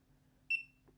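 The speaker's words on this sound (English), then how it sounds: "Long beep means successful." A single short, bright electronic beep from an ONNAIS fingerprint gun lock, close and clear over a faint steady hum, followed by a soft click.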